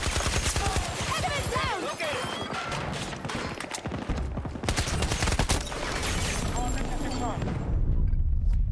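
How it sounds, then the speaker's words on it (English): Short bursts of gunfire from Battlefield 2042 crackle in clusters amid heavy battlefield chaos, with someone talking over much of the action. "Accidentally turned on my burst fire"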